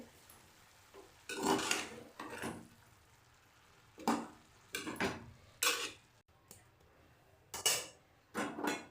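Shredded cabbage and soaked chana dal being stirred together in a pan, heard as several bursts of scraping spoon-on-metal strokes separated by short quiet gaps, fairly close and with no talking.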